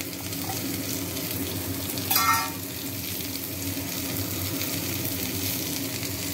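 Onion frying in a pan with dried chillies for a broccoli and potato curry, a steady close sizzle with a brief louder burst as it hits the hot oil.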